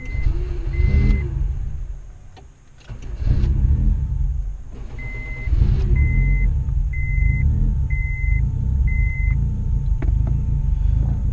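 A turbocharged Honda CR-V engine idles with a loud, deep rumble that dips briefly, then settles back, while a series of short electronic beeps chime repeatedly over it.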